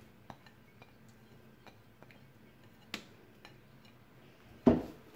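Chaat masala, onion, green chili and coriander are mixed in a bowl, heard as sparse, light clicks and taps of a utensil against the bowl, ending in one louder clunk.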